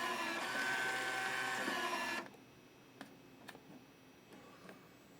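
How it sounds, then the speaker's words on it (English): A fire alarm control panel's built-in printer runs steadily and loudly for about two seconds, then stops abruptly, leaving a quiet room with a few faint ticks and clicks. "Oh yeah, printer."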